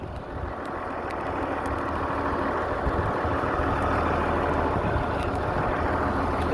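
A farm tractor engine idles at close range in a steady low rumble with a constant mechanical drone, outdoors in an ice storm while feeding cattle, with no speech.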